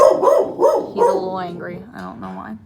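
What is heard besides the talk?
dog barking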